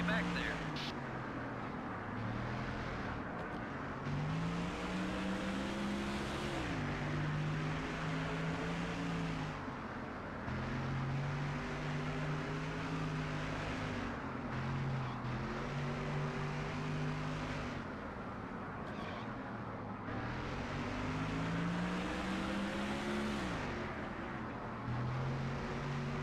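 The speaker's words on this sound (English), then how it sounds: "Newman would have rocket speed going down the straightaway with no rear spoiler on his car" NASCAR stock cars in a racing video game, engine drone rising in repeated pitch sweeps as gears shift, sustained and fairly loud, with a voice talking over it.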